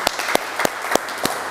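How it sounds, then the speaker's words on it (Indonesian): A church congregation claps in a steady rhythm of about five sharp beats, loud and close, joined by a cheering crowd. "Berikan sorak-sorai buat Tuhan kita yang luar biasa."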